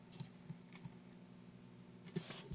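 Light keyboard typing and scattered mouse clicks at a computer during Photoshop layer editing, quiet and close, with soft irregular taps and no talking.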